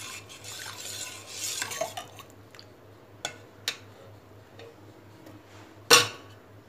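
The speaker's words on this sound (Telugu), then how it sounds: "మనం దీన్ని దగ్గర అయ్యేదాకా ఇలాగా నెమ్మదిగా కలుపుకుంటూ ఉందాం" Custard milk being slowly stirred in a pot on the stove, giving soft scraping and light clinks of a spoon against metal, with a few sharper knocks and one loud clank near the end, over a low steady hum.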